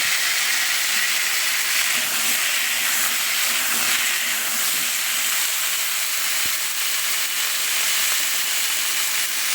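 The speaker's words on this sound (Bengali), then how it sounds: "এখন আলু দিয়ে দিলাম আলুটাও ভেজে নিচ্ছি" Potatoes fry in hot oil in a wok for a vegetarian drumstick and potato curry, giving a loud, steady, even sizzle and hiss throughout with no talking.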